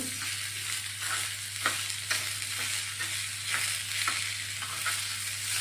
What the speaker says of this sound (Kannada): ಅದೇ ಒಗ್ಗರಣೆಯಲ್ಲೇ ಈರುಳ್ಳಿ ಹಾಕಿ ಈರುಳ್ಳಿ ಸ್ವಲ್ಪ ಮೆತ್ತಗಾಗೋವರೆಗೂ ಇದನ್ನು ಹುರ್ಕೋಬೇಕು